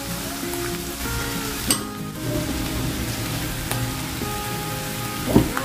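Garlic, onion and ginger sizzle in a pan over a low flame, a steady close crackle and hiss with a few brief clinks and stirring scrapes, no voices.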